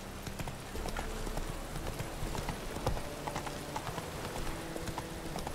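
Roach, Geralt's horse in The Witcher 3 video game, galloping with rapid rhythmic hoof clip-clops over steady game ambience, fairly close and continuous.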